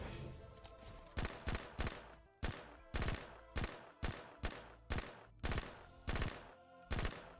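Submachine gun fire in Halo 4, loud and close, coming as about a dozen sharp short bursts in a fairly steady rhythm with brief gaps between them and no talk.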